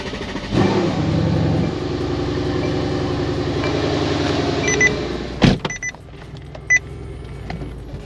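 A car engine turns over and settles into a steady low hum inside an enclosed space, then cuts to a sharp thump and quieter clicks and rattles.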